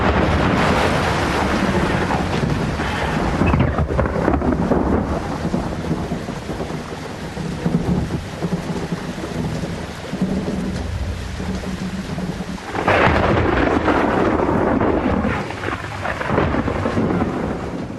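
A thunderstorm breaks over the Congo rainforest, with loud, long rolling thunder over steady heavy rain and a fresh surge of rumble and downpour toward the end.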